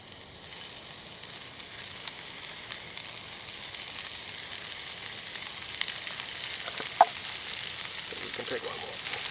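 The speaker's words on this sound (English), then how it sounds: "We take a few pieces of steak at a time, not to rob the pan of its heat too quickly." Pieces of steak sear in a hot pan on a small hobo stove outdoors, giving a steady, hissing sizzle at close range with a few faint clinks and bumps.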